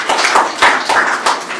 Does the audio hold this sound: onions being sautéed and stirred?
no